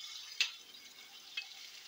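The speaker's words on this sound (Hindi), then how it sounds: "सबसे पहले हमने इसमें डालना है ये लहसुन अदरक का पेस्ट है, तकरीबन 1 टेबल स्पून भर के डाल रहे हैं।" Garlic-ginger paste frying with golden onions for kabuli pulao, a faint hiss of sizzling with two brief spoon clicks on the pan, quiet and without speech.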